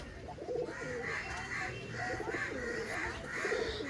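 Pigeons coo softly and repeatedly at close range, low rhythmic calls rising and falling over a constant quiet background hiss, with no talking.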